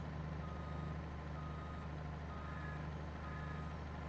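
Repeated reversing beeps from a truck in the Farming Simulator 22 video game, a regular steady alarm pulsing over a constant low engine hum, clear and close with no talking.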